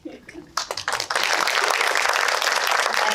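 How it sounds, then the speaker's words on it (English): Audience applause at a Q&A after a SeriesFest screening of Bones of Crows: scattered claps build quickly into a loud, sustained ovation from a crowd that keeps going to the end. "give them another round of applause"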